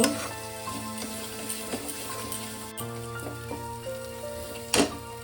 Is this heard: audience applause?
no